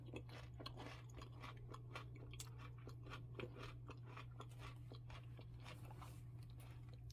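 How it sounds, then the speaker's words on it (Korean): Crunchy chewing and biting on crackers or bread dipped in Greek tzatziki sauce made with yogurt, cucumber, garlic, onion and lemon, a steady run of close, quiet crunches with no talking. "그러면 한번 시식을 해보도록 하겠습니다"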